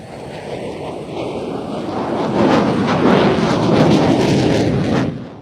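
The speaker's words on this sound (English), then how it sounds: "This is the second of the F-16's 360, which, as I say, was a bit quicker." An F-16 fighter jet flies a 360-degree turn overhead, a distant roar that swells into a loud, broad rushing rumble before fading, with wind buffeting the microphone.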